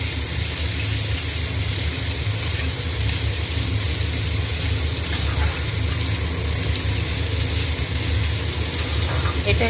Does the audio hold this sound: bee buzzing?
no